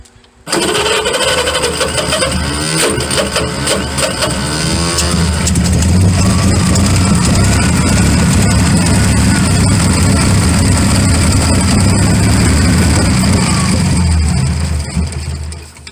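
A 1928 Franklin car engine cranks and catches after decades off the road, then runs on as a loud, continuous rough rumble for over ten seconds before the end, with a few faint voices early on.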